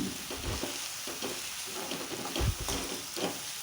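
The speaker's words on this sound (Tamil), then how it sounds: "இது நல்லா கிண்டி விட்டுக்கலாம்." Vegetable masala with chilli powder and garam masala stirred in a frying pan, a continuous close sizzle broken by several soft spoon scrapes and thumps against the pan, with no voices.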